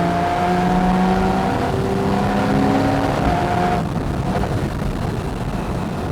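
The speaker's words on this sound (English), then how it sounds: "on the downshift, you get this beautiful burble" Porsche 911 Carrera S 991.1 engine heard from inside the cabin in sport mode, a steady loud drone with shifting engine tones that drops lower partway through as the car downshifts.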